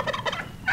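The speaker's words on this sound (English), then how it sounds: "And then she's got turkeys over here." Turkeys gobble in quick warbling bursts, a rapid rattling call repeated a few times at close range.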